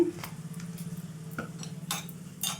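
Tomato and coriander-stalk chutney with hing being stirred in a pan, heard as soft, scattered scrapes and light taps of a spoon against the pan over a low steady hum, quiet and close, with no talking.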